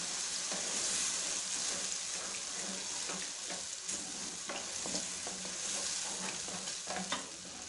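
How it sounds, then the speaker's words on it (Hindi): Cut strawberries fry in hot ghee, giving a steady, fairly close sizzle with scraping stir strokes throughout and no voices. "तो अभी हम उसके अंदर ये स्ट्रॉबेरीज हमने काट के रखी थी ये ऐड कर देंगे और अच्छे तरीके से इनको फ्राई कर लेंगे इसके अंदर"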